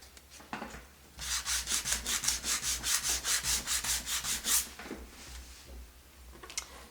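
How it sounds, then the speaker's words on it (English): Sandpaper rubbed back and forth over a painted wood plank, about fifteen quick rhythmic close scrubbing strokes in a steady run, with a few lighter scrapes before and after. "So we'll go sandpaper."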